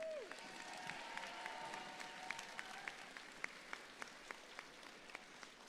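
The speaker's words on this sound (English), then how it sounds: "So one more round of applause for them." Applause for volunteers at a district robotics event, a faint, distant wash of clapping from a crowd with a few sharper claps standing out near the end.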